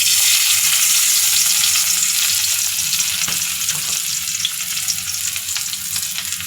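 Chopped onions and green chillies fry steadily in a pan, a loud, continuous hiss that stays close and even throughout with no talking.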